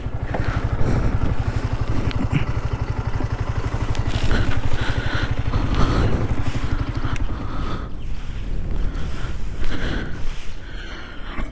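A motorcycle engine putters with a steady, throbbing rhythm, then winds down and fades toward quiet at the end as the bike stops near Srisailam Dam.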